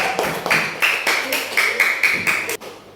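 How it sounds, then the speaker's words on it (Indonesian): A third-grade elementary classroom gives group 1 a round of patterned applause, with loud claps landing in a steady, regular rhythm before stopping sharply. "beri tepuk tangan untuk kelompok 1"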